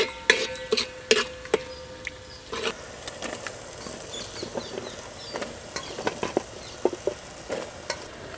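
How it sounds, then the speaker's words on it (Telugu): Mushrooms fry in a pan after being stirred into a masala with yogurt for a mushroom pulao. There is a low sizzle with frequent sharp clicks and clatters from a spoon stirring against the pan, loudest at the start. No one speaks. "ఇదంతా 2-3 నిమిషాలు వేయించుకుందామండి."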